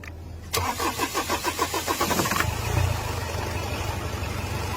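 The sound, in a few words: weed-covered car engine starting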